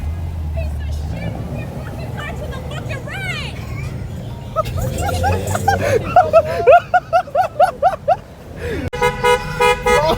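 Several car horns honk in a burst of short repeated toots at a car meet, loud and close, with chatter and laughter mixed in.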